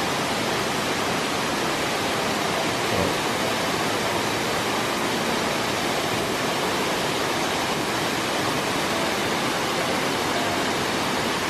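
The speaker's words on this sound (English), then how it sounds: "You can see some minor falls coming out from the rocks as well. And it's all coming down here." Raymondskill Falls in the Pocono Mountains roars as a continuous broadband rush of falling water over rocks, loud and steady throughout with no talk.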